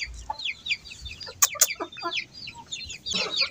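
A broody silver hen sitting on eggs in a cage clucks in short repeated bursts, close and moderately quiet, with a couple of sharp clicks, no voices.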